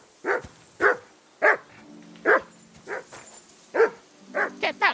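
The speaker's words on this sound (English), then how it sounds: "Get that mutt of yours to stop barking." A dog barks repeatedly in sharp, evenly spaced woofs, about ten in a row, clear and close with brief gaps between, in the video game Kingdom Come: Deliverance II.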